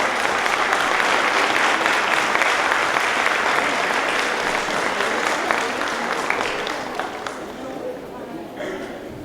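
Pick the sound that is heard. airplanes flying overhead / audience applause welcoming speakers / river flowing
audience applause welcoming speakers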